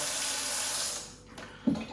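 Hot soapy water runs from a tap into a kitchen sink, a steady close rush that briefly drops away before a couple of louder splashes near the end.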